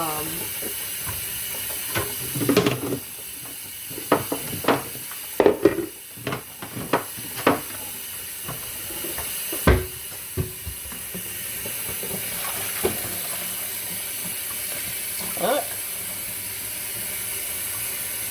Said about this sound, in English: So I just want to rinse this really good.